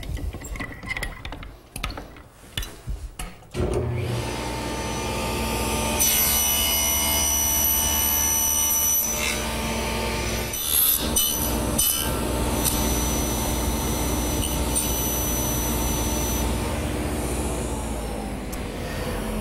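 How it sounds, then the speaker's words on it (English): A table saw cuts tenon cheeks on wooden desk legs: brief handling noises, then a loud continuous motor whine with the blade biting into wood in a steady grinding roar, close and alone. "Now we'll lower the blade again to make the cheek cuts on the legs."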